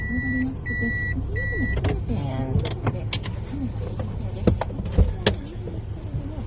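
Inside a moving car in Japan, with a low steady road and engine rumble under the talk, a few beeps and short clicks, and people speaking over it.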